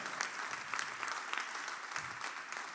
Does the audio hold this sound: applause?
yes